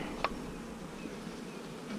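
Honey bees buzzing faintly at a hive during a mite check with alcohol, a low continuous hum with a brief sharp tap near the start.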